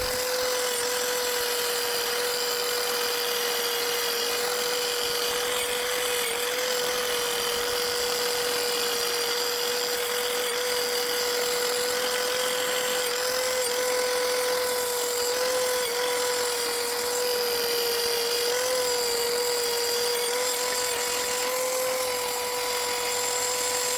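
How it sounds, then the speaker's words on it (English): A cheap corded drill runs steadily and loudly, holding a high whine at one constant pitch with no pauses and no talking. It is being used for a Volvo 940 exhaust modification. "just a corded drill, cheap as chips"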